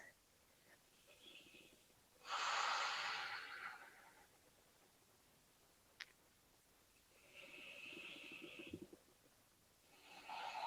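Ujjayi breathing during a mixed-level yoga flow, slow audible breaths through the nose, one long hissing inhale and a later exhale, soft and near with quiet gaps between.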